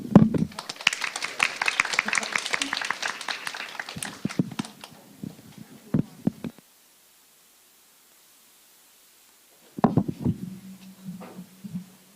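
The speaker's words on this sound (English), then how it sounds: "please give a big round of applause to all speakers" An audience at an international career fair gives the speakers a burst of applause, dense and close for about four seconds. It thins into scattered claps, then falls silent before a few soft knocks and a low murmur.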